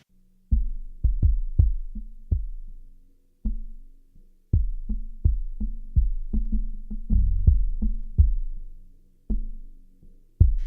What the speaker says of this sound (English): more of a pumping kick drum sound